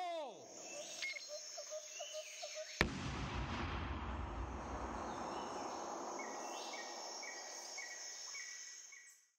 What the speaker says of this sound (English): the explosion doesn't have any punch in the compressed version of the recording